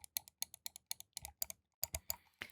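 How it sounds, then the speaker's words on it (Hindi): Sharp, close clicking from a Logitech MX Master 3 mouse, around a dozen rapid taps in irregular pairs and clusters, with a short pause before the last few, no voices. "ये क्लिक का साउंड आपको इरिटेट कर सकता है और ये बहुत ज़्यादा है"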